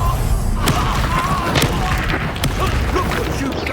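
A Bombarda spell explodes in the Hogwarts Legacy video game, a run of booming blasts and crashing impacts over dense, continuous battle noise.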